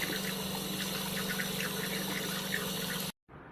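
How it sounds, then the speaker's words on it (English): Running water rinses a 3D printed pendant that has been electroplated with copper, a steady close wash of flowing water that cuts off abruptly near the end. "the next step is rinsing the pendant to remove any remaining copper solution"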